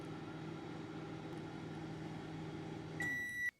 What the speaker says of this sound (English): I chuck that into the microwave for just 1 minute.